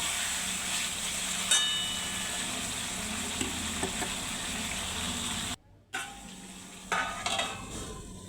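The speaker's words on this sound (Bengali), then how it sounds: "আবার একটু ভালো করে নাড়িয়ে চাড়িয়ে কষিয়ে নেব।" Food being browned and stirred in a pan gives a loud, continuous sizzle of frying, with scraping stir strokes and a short break partway through.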